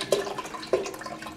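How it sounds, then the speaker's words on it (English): Water pours and glugs out of an open can during a can-crushing chemistry demonstration, two soft gurgling bursts with a faint trickle between, quiet and close. "I'm going to let the water pour out first."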